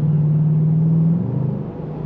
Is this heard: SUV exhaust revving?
yes